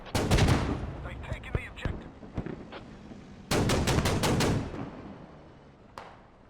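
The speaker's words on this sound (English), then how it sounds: "Artillery is about to come in on Inkpin" Artillery rounds landing in the video game Squad, heavy booming blasts in two loud clusters with scattered sharper cracks between, fading away toward the end.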